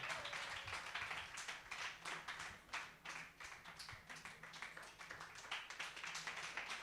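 A studio audience claps warmly to welcome a gospel singer onto a Zik+ TV show set, dense continuous applause with crisp individual claps, steady for several seconds.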